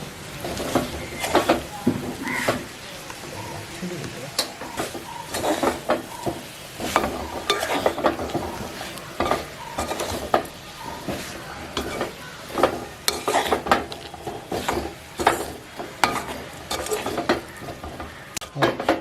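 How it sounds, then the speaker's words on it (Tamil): Cassava pieces are stirred and tossed with spice powders in a frying pan, giving repeated scraping, sizzling bursts and clatter of the spoon against the pan in an uneven rhythm, with no talking. "இதில் எல்லா இடத்துலையும் இந்த தூள்களும் இதெல்லாம் பரப்ப மாதிரி பிரட்டி எடுப்போம்."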